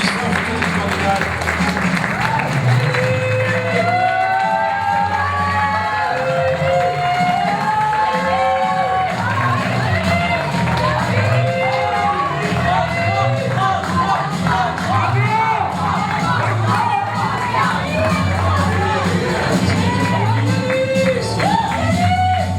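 A Miss Teen France 2015 casting audience applauds and cheers for the candidates, with loud, continuous clapping mixed with shouts, whoops and high excited voices throughout.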